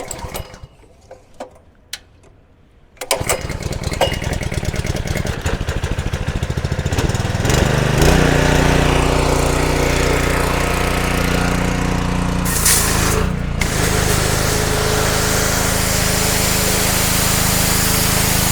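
A Honda GX200 petrol engine drives a 2700 psi pressure cleaner. After a few seconds of quiet handling it starts, then runs loud and close with a steady, buzzing drone, and a brief spray hiss cuts in partway through.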